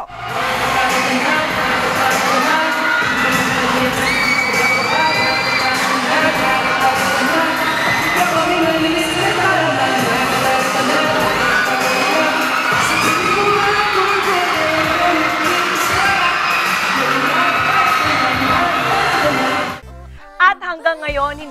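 Fans at a mall show scream and cheer loudly and continuously, a dense roaring crowd of high-pitched shrieks for the Diary ng Panget stars, cutting out abruptly near the end.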